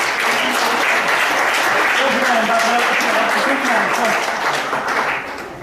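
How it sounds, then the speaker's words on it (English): Audience applause at a stage hypnosis comedy show, a loud steady wash of clapping with a voice speaking over it, tapering slightly at the end. "give Karen a round of applause"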